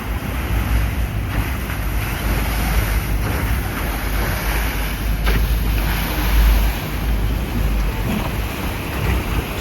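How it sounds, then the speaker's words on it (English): Steady rush of river water and wind on a river in Bangkok with boat traffic, a continuous loud wash of waves and engine rumble with wind buffeting the microphone. "So I'm just at the river now."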